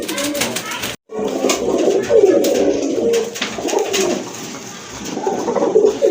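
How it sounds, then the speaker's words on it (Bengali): A pair of Danish pigeons in a loft coo in low, repeated rolling calls, fairly close, with a brief gap near the start and steady background noise throughout. "এটা এক জোড়া ড্যানিশ কবুতর"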